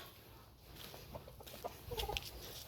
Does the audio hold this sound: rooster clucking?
yes